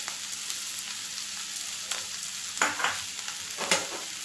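Flat beans with chopped coriander are stirred in a pan, giving a steady soft frying hiss with a few sharper scrapes and clicks of the spatula toward the end, close and without talk.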